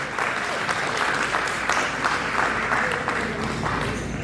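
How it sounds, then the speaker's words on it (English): Warm audience applause at an Indo-American community celebration of America's 250th anniversary of independence: a sustained, even patter of many hands clapping at moderate volume, without speech. "Please give a round of applause."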